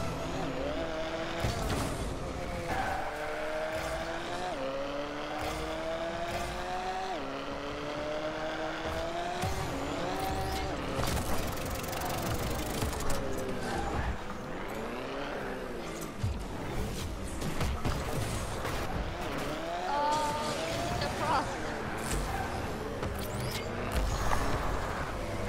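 Rocket League car engine driving without boost, a continuous buzzing race-car whine rising and falling in pitch with gear-like sweeps and occasional skid sounds, loud and up close.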